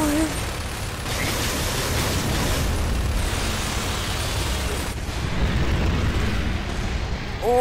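A grenade explosion in Gears of War 2 (Road To Ruin DLC), played on Xbox Series X: a loud, sustained broadband rumble with a burst partway through, staying dense and close throughout.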